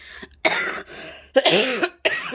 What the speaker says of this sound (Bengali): খুব কাশি আসছে গলায়